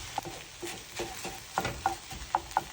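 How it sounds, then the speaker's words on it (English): Vegetables cook in beef fat with tomato paste in a pan for shepherd's pie: a soft sizzle under faint, irregular scrapes and taps of stirring. "We'll cook the vegetables a bit until they're softened."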